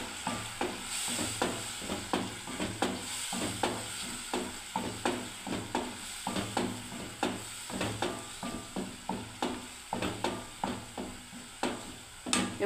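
Capsicum stir-fried in a pan, a continuous sizzle broken by a steady run of sharp spatula scrapes and knocks against the pan, close and clear, with no one speaking.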